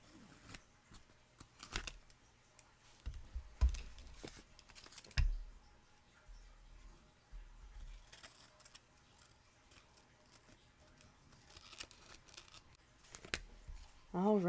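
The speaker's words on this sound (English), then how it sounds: "just taking the tonic scissors and trimming the edges here" Tonic scissors trim the edges of a handmade card close up, giving sparse, quiet snips and paper rustles with a few louder handling knocks and long near-silent gaps, and a brief voice at the very end.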